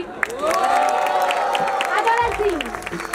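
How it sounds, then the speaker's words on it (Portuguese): A crowd at a Brazilian women's rap battle final claps, cheers and whoops loudly after a third round, with shouting voices rising and falling over the applause until it fades near the end. "E muitas palmas pra esse terceiro round."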